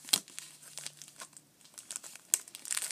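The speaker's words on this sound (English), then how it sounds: "I've got my scissors right here, and I'll just cut this open." Scissors cut open a thin plastic bag up close, making soft crinkling and rustling with a few sharp snips, quiet overall.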